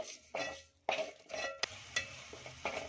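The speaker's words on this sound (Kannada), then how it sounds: "ನೋಡಿ ಟೊಮೊಟೊ ಕೂಡ ಸಾಫ್ಟ್ ಆಗಿ ಫ್ರೈ ಆಗಿದೆ" Tomatoes frying in a pan as they are stirred for a fenugreek leaf curry, a few distinct scraping strokes with soft sizzling between them, close and fairly quiet, with no talking.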